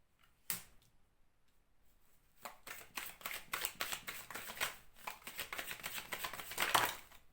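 Tarot cards are shuffled and drawn, a faint string of soft papery flicks and taps that start sparse and grow busier and denser toward the end.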